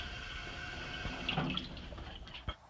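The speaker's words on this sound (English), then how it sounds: "At least they got a good water fountain." A water fountain in a high school gym weight room runs with a steady hiss and trickle of water, rising briefly in the middle and ending with a soft clunk.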